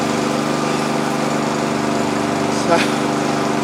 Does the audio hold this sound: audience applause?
no